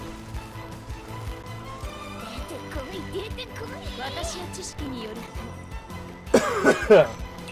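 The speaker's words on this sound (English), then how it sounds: "still have that coughing problem" A burst of harsh coughing near the end, following a stretch of low background noise and faint murmuring.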